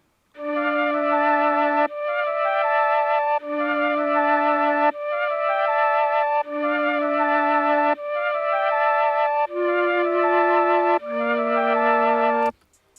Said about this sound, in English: So I started out with this chord progression in Mellotron.